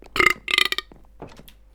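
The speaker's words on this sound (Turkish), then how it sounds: "Geğirdim." A loud, close burp comes from a gamer during a Minecraft survival session. It is a rough, voiced belch in a couple of bursts, followed by a few fainter trailing sounds.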